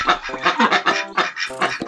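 Geese honk loudly and close in a rapid, overlapping series of harsh, nasal calls.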